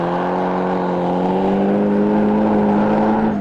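Turbocharged GSR 1.8 litre engine, high-flowed early Cordia turbo boosted to 30 psi, roars steadily as the car slides through a corner without braking, a loud sustained drone with rising pitch.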